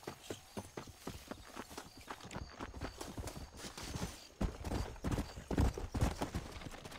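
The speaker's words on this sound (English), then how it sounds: "Keep doing it. Eventually, horse is going to come." In the video game Red Dead Redemption, a horse approaches with rhythmic clip-clop hoofbeats that grow louder and closer, speeding into a quicker gait toward the end.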